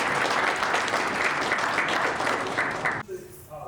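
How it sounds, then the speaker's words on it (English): An audience at a tech conference applauds a speaker being welcomed, with steady, full clapping for about three seconds that stops abruptly, followed by faint room noise. "Please give him a round of applause as they walk in."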